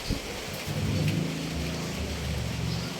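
Rain falls steadily outside as a constant wash of noise, with a low rumbling layer underneath, and no one talking.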